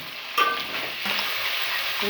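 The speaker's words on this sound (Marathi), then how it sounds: "मसाले सगळे तेलात फ्राय करून झाले" Onion-coriander paste and spices fry in oil for a country-chicken biryani, a close, steady sizzle with a sharp stirring clatter near the start and no talking.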